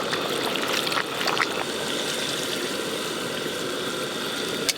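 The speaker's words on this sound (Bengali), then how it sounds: "এবার জল দিয়ে দেবো জল" Water poured into a large wok of braised chicken curry, a continuous splashing, gurgling pour with a few brief clinks early on, close and steady throughout, no talking.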